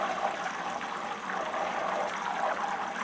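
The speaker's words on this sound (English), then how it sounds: "this type of bubbling, boiling, is the water evaporating" Ghee simmering as the water evaporates out of the butter gives a steady, close hiss of fine bubbling that runs continuously at an even level, with no one talking over it.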